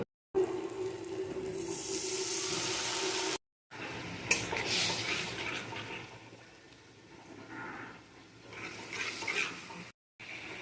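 Spiced onion, tomato and green chilli masala frying in a pan, with a steady close sizzle and stirring scrapes that drop out briefly twice.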